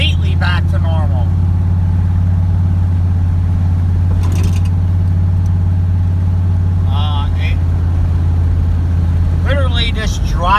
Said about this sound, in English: Literally just driving it normal with keeping it out of boost.